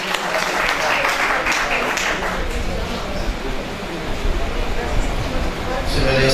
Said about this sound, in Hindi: हौसला अफजाई के तालियां बजा दीजिए